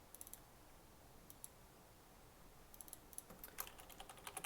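Quiet keystrokes on a computer keyboard while someone writes code, coming in scattered clicks that grow into denser bursts of typing near the end, with no speech.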